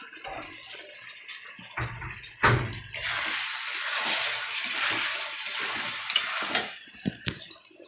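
A splash of water hits a hot pan of cooking vegetables with turmeric and sets off a sudden, loud, hissing sizzle that holds for several seconds before fading, with a few stirring knocks close by.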